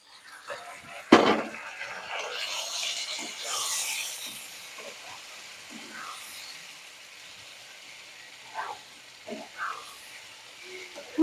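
Ginger-garlic paste and mustard paste frying in a pan for a Kashmiri-chilli fish curry, a soft broad sizzle with a sharp burst near the start and faint scraping and stirring clinks through the rest.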